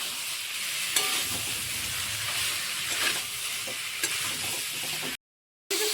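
A spiced cauliflower and egg mixture fries in a pan with a continuous bright sizzle, broken by a few stirring scrapes, and the sound cuts off abruptly near the end.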